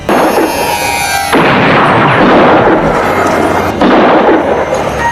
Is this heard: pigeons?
no